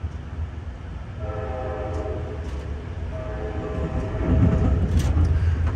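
The Amtrak Cardinal passenger train runs westbound on the rails, heard from inside a Viewliner I sleeper car: a steady low rumble of wheels, with drawn-out horn tones sounding twice and the rolling noise swelling toward the end.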